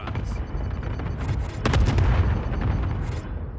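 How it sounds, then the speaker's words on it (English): Rocket launch blasts and explosions in the Call of Duty Warzone video game on the Alcatraz map, a dense loud rumble of booms and heavy detonation bursts throughout, with a stronger impact around the middle. "Over here, launch a rocket."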